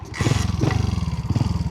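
A motorcycle passes close by on a field, its engine snarling and throbbing in a loud rapid pulse, rising sharply at the start and holding strong for the whole short stretch.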